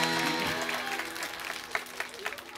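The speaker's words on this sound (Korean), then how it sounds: "박수 한번 보내주시죠." Audience applause at a televised careers lecture, a short burst of clapping that starts loud and thins into scattered claps after about two seconds, with faint crowd murmur.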